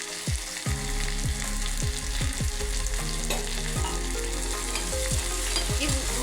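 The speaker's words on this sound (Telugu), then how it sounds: "ఈ ఉల్లిపాయలు మంచి గోల్డెన్ బ్రౌన్ వచ్చేలాగా ఫ్రై చేసుకుందాం" Chopped onions frying in oil in a pan while cooking brain curry, with a constant bright sizzle and repeated scraping knocks from a spoon stirring them, spaced irregularly.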